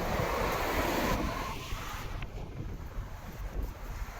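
Strong wind in Hong Kong buffets the microphone with a constant low rumble and roar, gusting louder at first then easing slightly, with no voices.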